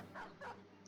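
A dog in the Battle Brothers game gives two quick, soft barks in a row, faint and short, over a low background hum.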